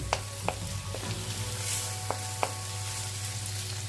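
Saltfish frying in a pan with a low steady sizzle, broken by a few sharp scrapes and taps as a utensil stirs it, close and fairly quiet.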